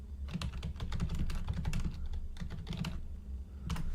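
Rapid, uneven clatter of fingers typing on a computer keyboard, close and fairly loud, with bursts of keystrokes and brief pauses over a steady low background hum.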